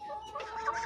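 Hens clucking softly in a backyard coop as they head over to drink water, a steady low murmur of overlapping calls close by.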